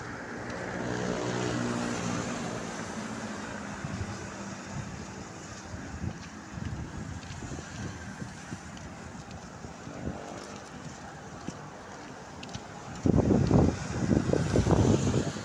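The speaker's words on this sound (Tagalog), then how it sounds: "Malakas po ang ulan, mga kababayan. Malakas po ang hangin." Strong wind roars steadily over the microphone during a heavy rainstorm, with rumbling gusts and a heavier burst near the end; rain is not clearly distinguishable.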